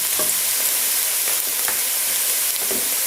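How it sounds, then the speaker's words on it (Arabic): Onions sautéing gently in oil in a pan give a steady, close sizzle with soft crackles and occasional scraping stirs, and no voices over it. "وانزل عليها البصل وانطيها تشويحة خفيفة على النار الى ان يذبل البصل"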